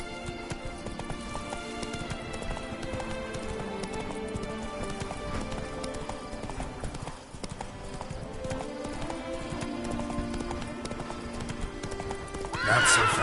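Roach, a horse in The Witcher 3, gallops with steady hoofbeats that hold through the whole stretch, and a whinny or neigh stands out near the end. The hooves sound close and continuous over a busy game soundscape.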